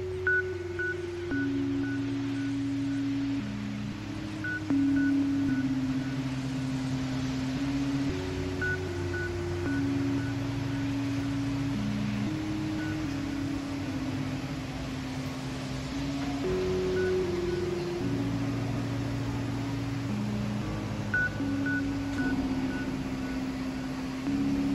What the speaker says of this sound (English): Please excuse the sound of the blower in the background.